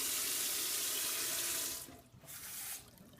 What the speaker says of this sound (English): I'm in the middle of the washing up now.